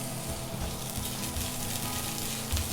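Chopped onions frying in mustard oil, a steady, soft sizzle with faint crackle running evenly from start to end, close and fairly quiet, with no talking.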